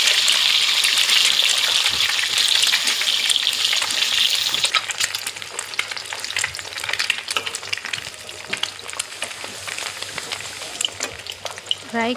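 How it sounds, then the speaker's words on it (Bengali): Turmeric-coated eggs fry in oil in a pan (kadai), giving a steady close sizzle with crackling and popping bursts that ease slightly partway through. "একটি কড়াইতে প্রথমে হলুদ দিয়ে মেখে নেওয়া ডিমগুলো ফ্রাই করে নিব।"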